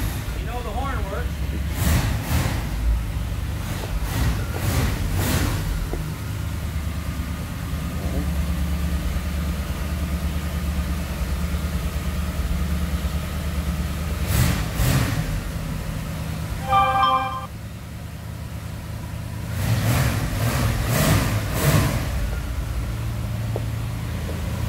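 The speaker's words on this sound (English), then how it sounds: "So I'm going to start the car up and we'll hear a run." A 1959 Ford Fairlane 500 Skyliner convertible runs at a steady, low idle, its rumble continuing under people talking nearby, with a brief honk of the horn partway through.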